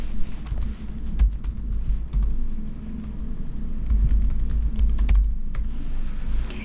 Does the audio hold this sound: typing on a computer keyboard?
yes